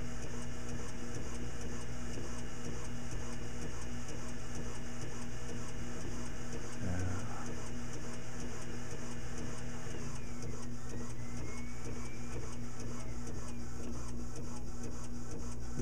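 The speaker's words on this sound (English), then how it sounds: "Sounds like the DVD, or the CD, I'm sorry, is almost finished burning, which is good." Bravo II disc publisher with robotic arm burning a CD, a steady mechanical whir with faint regular ticking and a brief shift near the end, no talk.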